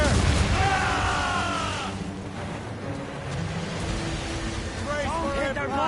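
Ship cannon fire during a naval battle in Assassin's Creed Rogue, booming blasts amid wind and crashing surf, with shouted voices over the din.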